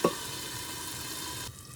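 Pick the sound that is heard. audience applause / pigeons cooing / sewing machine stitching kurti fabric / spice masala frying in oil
spice masala frying in oil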